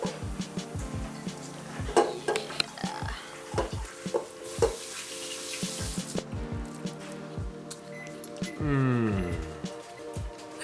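A spoon stirs and scrapes through spicy dried squid side dish in a mixing bowl, giving sticky wet clicks and taps, then a short whirring burst near the end, with no talk.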